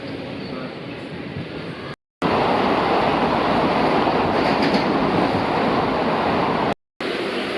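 A train passing close by in India, a loud, steady rumbling roar with rhythmic wheel clatter that holds for several seconds, briefly cutting out twice.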